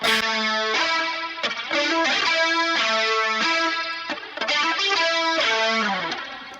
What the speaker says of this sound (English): a little bit of chorus, a good amount of distortion or saturation, and just a little bit of filtering